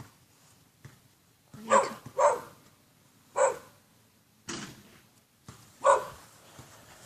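A dog barks in short bursts, a few sharp barks spaced across several seconds, fairly close, with quiet background between them.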